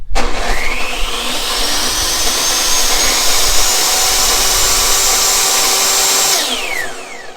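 A table saw spins up with a rising whine, runs loud and steady close by, then winds down quickly as the brake stops the blade, with no talking over it.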